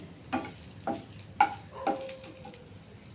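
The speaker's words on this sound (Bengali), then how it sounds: "এই লঙ্কা ভাজা হচ্ছে" Chillies frying in a pan while being stirred, a soft sizzle broken by several distinct scraping strokes of a spoon against the pan, with no talk.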